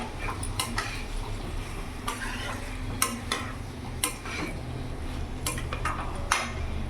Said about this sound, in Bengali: ভালো করে মিশিয়ে নেব মশলার সাথে। তার সাথে এখানে ভেজে রাখা আলুটাও দিয়ে দেবো